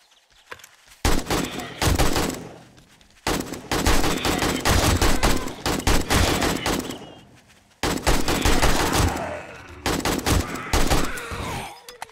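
Gunfire in the 7 Days to Die video game, Alpha 19, in three long loud bursts of rapid shots with brief pauses between them and no talk.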